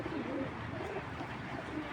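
Big Netherlands racing pigeon hen cooing close by in a low, throaty rolling coo, with faint background noise.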